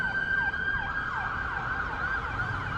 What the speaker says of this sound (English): It's like 4 ambulances coming this way.